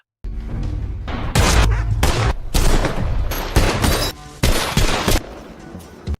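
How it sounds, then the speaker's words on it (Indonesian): Intense, sustained gunfire in a film shootout at a mansion rattles through the whole clip in loud dense bursts, with heavy booms and thuds between volleys and no pauses. "Baku tembak pun pecah."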